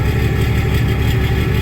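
A Cummins diesel swapped into a ramp truck idles steadily with a low, even rumble through its tail exhaust, a quiet, continuous drone with no revving or voices.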